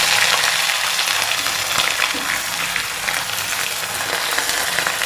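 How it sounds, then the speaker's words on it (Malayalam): Two medium onions and dried red chillies frying in hot oil for a potato masala, a loud close continuous sizzle and crackle with faint stirring throughout. "മുളകൊന്ന് മൂത്ത് വരുമ്പോഴത്തേക്ക് നമുക്കതിലേക്ക് സവാള ഒരു രണ്ട് സവാള ഇട്ടെ ചെറുതായി"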